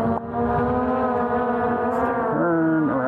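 A truck drives close behind a rider on a KingSong S22 electric unicycle during a top-speed run, giving a loud, steady engine drone with slowly shifting pitch that fills the whole stretch along with wind rush.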